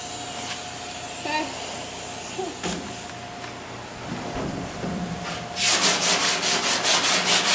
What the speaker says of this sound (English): You got it almost all sanded.